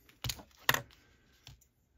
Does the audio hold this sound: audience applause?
no